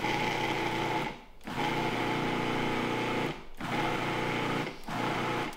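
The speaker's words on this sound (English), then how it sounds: "Just throw into a food processor and pulse." A food processor pulses a broccoli rabe meatball mixture in a kitchen, three loud, steady motor bursts of one to two seconds each, separated by short pauses.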